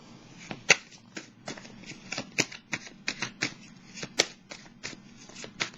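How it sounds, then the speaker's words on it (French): Tarot cards are shuffled and drawn during an astro-tarot reading, giving close, crisp riffling flicks and irregular sharp card snaps spread across several seconds with no talk. "Allons piger une petite carte."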